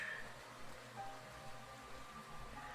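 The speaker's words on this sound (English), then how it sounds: "here, have lots of rain" Steady rain sound effect, a soft, continuous hiss of falling drops on a surface, faint and even throughout with no voices.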